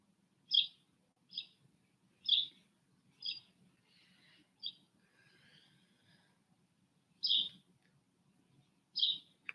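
A bird gives a series of short, bright chirps at irregular intervals, fairly close, over near silence with a faint low hum.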